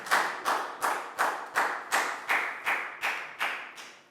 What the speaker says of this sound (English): High five, big round of applause for Bangpon, please, guys.